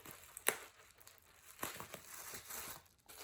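Tape is peeled off a bubble-wrapped package in close, quiet bursts of crinkling and tearing, with a sharp rip near the start and softer rustles following.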